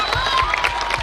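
A crowd at an outdoor wrestling bout claps and cheers in a steady wash, with a commentator's voice talking over the noise.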